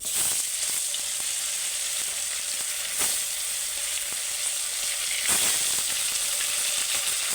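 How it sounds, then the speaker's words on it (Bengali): Shankar stingray fish frying in hot oil in a wok, a steady loud sizzle and crackle with occasional sharper spits and pops, continuous throughout with no talking. "এবারে আমি শঙ্কর মাছটা ভাজবো কড়াই তেল দিয়ে দিয়েছি"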